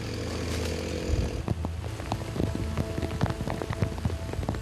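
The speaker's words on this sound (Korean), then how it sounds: "급기야 하나둘 떨어지기 시작하는 빗방울." Scattered raindrops patter on surfaces in a mountain forest during logging work, starting sparse and growing into a light, irregular tapping with no voices.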